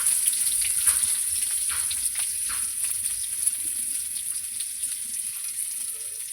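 Onion sizzles and crackles steadily in hot oil with red chili and panch phoron, a soft continuous frying hiss with small scattered pops and light stirring, no talking.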